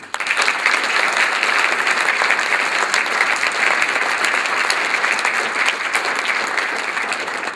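Loud, sustained applause from an audience honoring students at a high school recognition event, dense clapping holding steady and tapering slightly near the end.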